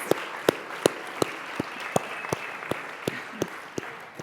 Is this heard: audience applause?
yes